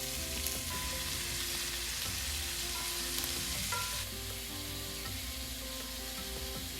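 Shrimp sizzle steadily in butter in a hot pan, a continuous close crackle with no talking over it.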